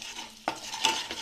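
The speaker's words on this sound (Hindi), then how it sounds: "अच्छे से मिक्स करते हुए अच्छे से फ्राई कर लेंगे।" Cumin, fenugreek and other spices are stirred in hot ghee in a pan for shahi paneer, with a soft sizzle and two quick scraping strokes of a spoon against the pan, close by.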